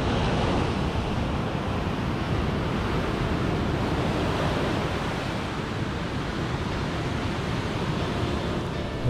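Ocean surf breaking on the beach at Carita, Anyer, a steady broadband wash of waves with wind rumble, loud and continuous throughout with no talking.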